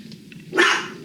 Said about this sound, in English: My little dog doesn't like the dog next door, so they constantly yell at each other.